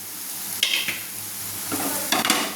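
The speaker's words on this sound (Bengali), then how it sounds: "ভাজা সয়াবিনটাকে প্লেটের মধ্যে নামিয়ে নিচ্ছি" Fried soybeans scraped out of a hot pan onto a plate with a spatula, two short clusters of metal scraping and clatter over a faint steady hiss, close by.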